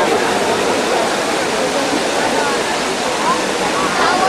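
Water of the Trevi Fountain in Rome rushes and splashes in a steady, loud, unbroken hiss with no pauses.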